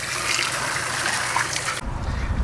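Water runs and splashes into a cooler trough, rinsing out PVC sawdust from building an evaporative cooling wall; a steady close trickle and spatter that suddenly shifts to a duller pour near the end.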